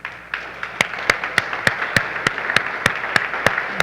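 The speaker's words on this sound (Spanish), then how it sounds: "Démosle un aplauso a Jesús" A congregation gives Jesus a round of applause during a Spanish-language church service, a steady run of sharp, evenly spaced claps over a softer spread of clapping that builds slightly, with no talk over it.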